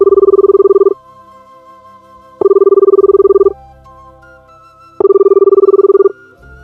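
A telephone rings three times, each loud electronic trill lasting about a second, separated by short pauses with a faint background hum.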